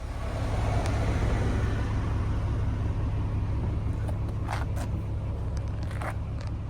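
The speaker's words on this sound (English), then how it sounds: "Just a lovely V6 note." A 2002 Volkswagen Golf 2.8 V6 4Motion with its naturally aspirated engine gives a steady, loud, low rumbling drone heard up close, with a few faint scrapes or rustles near the end.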